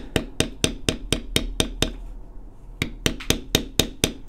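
A mallet strikes a metal bevel tool on tooling leather while a flower design is beveled, giving sharp, regular taps about four per second, a pause of roughly a second, then another even run of crisp close-up strikes.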